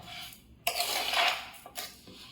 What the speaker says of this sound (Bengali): চিনি আর নারকেল একসঙ্গে মিলিয়ে নেব।